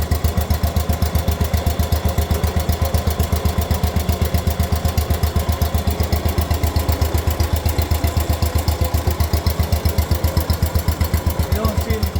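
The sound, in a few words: engine idling with new muffler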